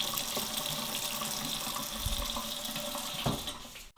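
Steady flow of water from a kitchen tap fitted with a purifier and softener, a close, even splashing into the sink that keeps going until it cuts off abruptly at the end.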